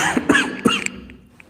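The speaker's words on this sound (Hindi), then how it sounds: "कोरोना वाली खांसी नहीं थी भाई" A few short, harsh coughs close to the microphone in quick succession, followed by quiet.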